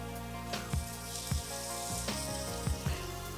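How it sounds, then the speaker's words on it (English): Kidneys sizzle steadily as they grill on their second side until golden brown, a continuous close frying hiss with a few soft clicks and bumps of the pan. "So I'll leave them to cook on this second side for a few minutes until they're nice and golden brown"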